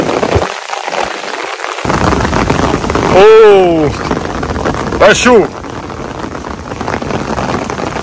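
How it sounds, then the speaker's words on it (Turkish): Heavy rain falls in the mountains as a loud, steady hiss, close and constant, while people exclaim and call out over it. "Kaç gündür bekliyoruz biz bu yağmuru."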